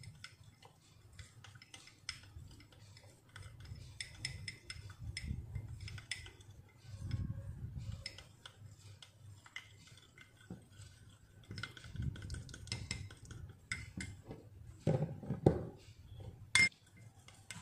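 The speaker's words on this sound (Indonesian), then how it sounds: "Ini kita aduk-aduk lagi." A spoon stirs a mixture with lime juice in a bowl, giving sparse, soft clinks and scrapes at a quiet, close level with irregular taps throughout.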